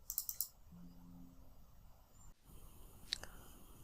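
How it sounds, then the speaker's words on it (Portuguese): A computer mouse being clicked to open a local SQL database: a quick cluster of sharp clicks at the start, then quiet room tone with a faint later tick. "A gente basta clicar, dar 2 cliques aqui que ele já vai abrir a nossa base de dados local."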